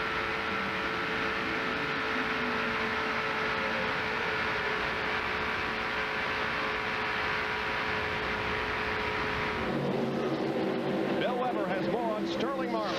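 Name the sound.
NASCAR stock cars racing across the line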